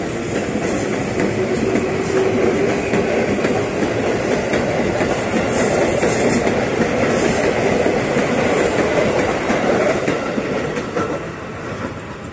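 A KRL commuter electric train runs fast through Lenteng Agung station on a sharp curve, its steady rumble and clickety-clack of wheels close and loud throughout, easing slightly near the end.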